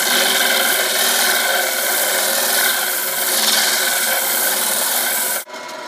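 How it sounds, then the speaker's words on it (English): Steady, continuous abrasive rasping of sanding against the ends of a wooden kendama pill, loud and close, running unbroken before dropping off abruptly near the end. "And you see we'll get a nice sanding there"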